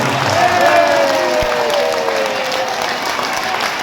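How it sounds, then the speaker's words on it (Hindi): A large audience at a religious storytelling gathering claps along with music playing, a sustained wash of hands under a steady tonal backdrop. "एक बार हाथ ऊपर करो और एक बार प्रेम से ताली मार के हंसिए"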